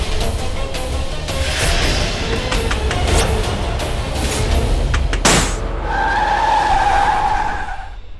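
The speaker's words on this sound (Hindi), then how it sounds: "लगता है टायर पंचर हो गया।" A car's tyres screech and skid on the road with engine noise, a sharp burst-like crack midway, then a sustained squealing tone fading out, loud and close without speech.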